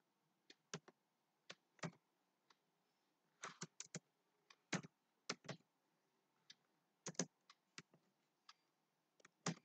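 Someone types an SQL query on a computer keyboard, producing quiet, close, irregular key clicks in small clusters with short pauses between them.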